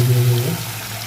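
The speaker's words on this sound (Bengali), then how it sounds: "জল দিয়ে দেবো।" Water pours into a pan of fried spice masala for a boiled egg curry, a short gushing splash up close that quickly settles into a softer hiss.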